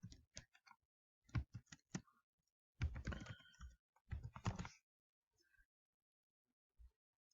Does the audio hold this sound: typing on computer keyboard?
yes